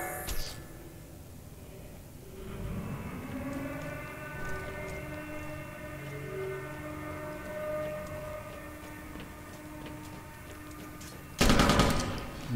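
Video game gunfire during a clan scrim match: sustained automatic-weapon fire and in-game ambience rumble steadily for about twelve seconds, ending in a louder, harsher burst near the close, with no talking.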